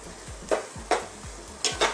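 Spatula stirring and scraping a dry sautéed mung bean dish with string beans and moringa leaves in a pan, four distinct scraping strokes over a faint sizzle, no talking.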